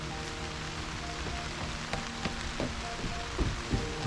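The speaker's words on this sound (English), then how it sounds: "It started to rain." Rain beginning to fall in a garden with cherry trees, a steady hiss of drops with scattered sharper taps on leaves and surfaces growing slightly denser, no voices.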